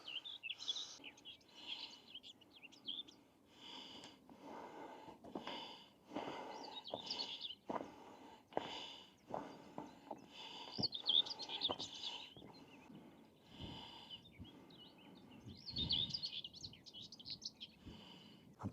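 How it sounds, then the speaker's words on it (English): Birdsong along a coastal walk at Sand Point near Weston-super-Mare, where the Severn Estuary meets the Bristol Channel: repeated bright chirps and short phrases over a quiet background, fairly close and clear, with occasional soft rustles and no speech. "A beautiful bit of bird song."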